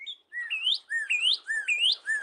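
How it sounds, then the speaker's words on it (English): A cardinal sings a clear, close series of rising whistled slurs, repeated about four times in a steady rhythm with brief pauses between phrases, with no talking. "Yeah, those are the cardinals."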